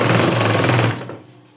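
A sewing machine stitches a blouse in a loud, steady, fast whirring run that stops abruptly partway through, leaving a fading rattle.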